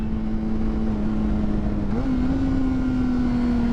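Steady engine drone from a motorcycle being ridden, with no fairings fitted, close and continuous under wind rush, the pitch stepping up briefly midway as the rider shifts or accelerates, with no talking.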